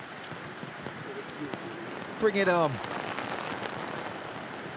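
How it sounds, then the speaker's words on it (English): Steady rain falls on a golf course during a professional women's tournament in Andalucía, Spain, a continuous fine patter beneath a brief spoken phrase midway. "See, what rain."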